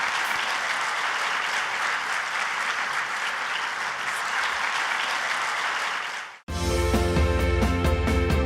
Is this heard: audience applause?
yes